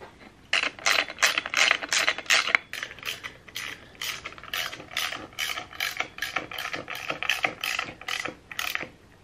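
Ratcheting clicks from a 3/16 Allen driver screwing the air filter cover bolt onto a 2007 Harley Sportster 1200 with an Arlen Ness Big Sucker filter, a steady run of close, crisp repeated clicks in short bursts, with no talking.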